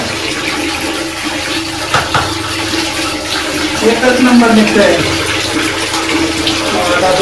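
Water runs steadily while a bathroom is washed, with a continuous rushing flow and splashing as a person talks over it.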